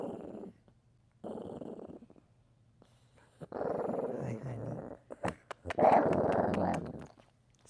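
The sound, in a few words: dog growling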